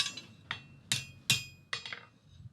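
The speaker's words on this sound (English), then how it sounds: "if I go sideways I can just straighten a bar really easily and sight down it from the end" A steel bar is hammered straight on an anvil with a depression in its face: six sharp metallic strikes at an uneven pace, each ringing briefly before the next. The blows are close and clear, and no one speaks.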